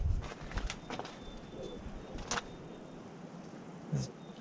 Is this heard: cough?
no